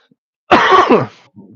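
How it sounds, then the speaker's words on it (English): A single harsh throat-clearing cough, loud and close, followed by a faint short rasp. "Bit of a cough there, sorry."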